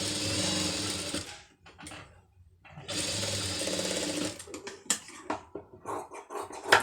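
A tailoring sewing machine stitches fabric in two steady whirring runs separated by a pause, followed by lighter clicks and handling knocks, close and fairly loud.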